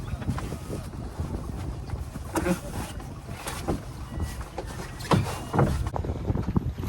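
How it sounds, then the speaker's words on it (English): Strong wind rushes and buffets around a small sailing dinghy under way on open water, a steady broadband roar with gusty swells and occasional splashy bursts, loud and close to the microphone. "We're sailing. So there's a lot of wind right now."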